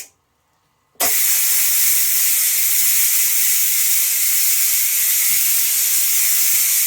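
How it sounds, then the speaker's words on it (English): After a second of near silence, a loud, steady rush of hot steam bursts from the pressure release valve of a Ninja Foodi cooking tri tip and keeps hissing without a break. "because that is some pretty hot steam coming out of here"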